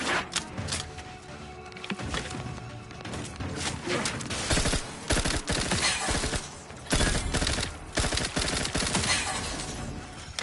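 Rapid bursts of gunfire from the Moon Man gun in The Outer Worlds 2, a dense volley of loud shots over roughly ten seconds with brief pauses between bursts and no talk.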